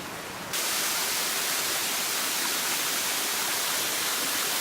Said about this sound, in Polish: jest piękny wodospad